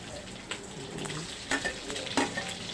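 Pork, garlic and onion sauté in a pan with a soft, even sizzle, punctuated by a few sharp clinks of a utensil against the pan.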